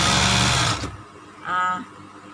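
A sewing machine with a ruffling attachment stitches and gathers fabric in a loud, steady whirring run of under a second. It stops abruptly, then a brief quieter tone follows.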